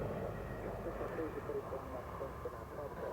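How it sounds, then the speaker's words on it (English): A fixed-wing aircraft drones past at the RAF Waddington airshow, a steady distant engine rumble heard beneath a commentator's amplified voice. "So the aircraft's now going out to right to reposition."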